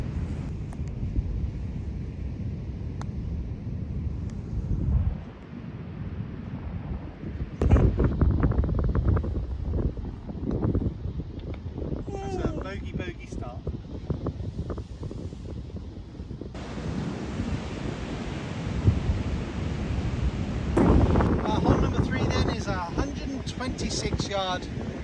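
Strong wind on a golf course buffets the microphone in heavy roaring gusts that rise and fall, with occasional voices underneath.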